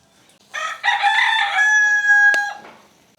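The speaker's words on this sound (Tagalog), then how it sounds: "Minuto daw dito sa Pilipinas tumitilawak yung manok." A single rooster crows nearby in the Philippines, its loud call stretching into a long held tail, followed by a brief sharp knock as it fades.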